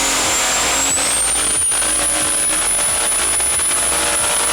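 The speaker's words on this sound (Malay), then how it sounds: "Tapi sebenarnya lebih tepat lagi bunyi turbo sebenarnya macam ni." A car engine's turbocharger gives a high, thin, whistling whine that climbs in pitch, then holds steady over a loud, constant engine roar, heard close and with no talking.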